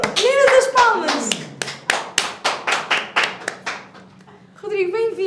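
Girls clap their hands in a run of about a dozen sharp, evenly spaced claps, close and crisp, with voices at the start and a voice again at the end.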